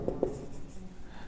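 Pen or chalk strokes writing numbers by hand during a Class 6 maths lesson on large numbers, two short scratchy strokes near the start followed by faint quieter marks, with no talk.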